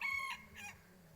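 A junglefowl chicken gives a faint, distant crow followed by a short cluck, heard alone against quiet outdoor background noise.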